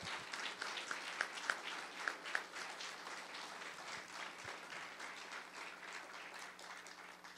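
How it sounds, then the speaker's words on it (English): An audience at a city council candidate forum gives sustained applause, a dense, even patter of many hands clapping in a room at moderate distance, with no talking over it. "So I think now we can definitely applaud all these people who work so hard."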